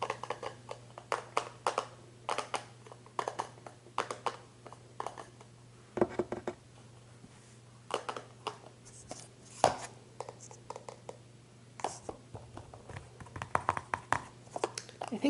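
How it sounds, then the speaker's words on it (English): Fingertips tapping and scratching on flimsy makeup packaging, including a Milani product, in a bursts-and-pauses pattern of crisp close-up clicks over a low steady hum, no talking. "I think the winning for tapping is this Milani one"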